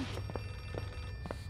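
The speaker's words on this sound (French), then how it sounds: "C'est un téléphone?" A telephone rings in the horror video game Outlast 2, with repeated short trilling rings heard faintly over a low, steady hum and no talk.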